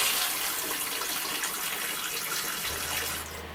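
Steady broadband rush of a faucet running in a 1997 Mallard 29S RV during plumbing winterization, constant and close, with a low hum entering near the end.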